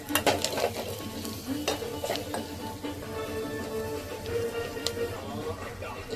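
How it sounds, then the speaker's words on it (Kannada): A spoon stirs turmeric powder through a sizzling pan while making buttermilk sambar, scraping and clinking against the metal in steady strokes over a continuous frying hiss, close and moderately loud. "ನೆಕ್ಸ್ಟ್ ಅರಿಶಿನ ಪುಡಿ ಹಾಕಿದ್ಮೇಲೆ ಒಂದ್ಸರಿ ಮಿಕ್ಸ್ ಮಾಡ್ಕೊಳ್ಳೋಣ."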